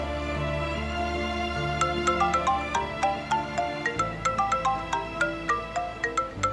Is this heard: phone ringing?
yes